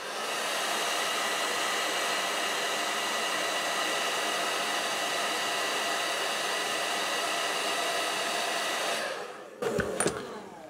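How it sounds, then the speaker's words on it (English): A hair dryer blows hot air onto an old sticker, a loud, steady broadband whoosh with a faint motor hum that runs unbroken for about nine seconds before switching off, followed by a few soft handling clunks. "But a best way to do it is if you can grab a hairdryer."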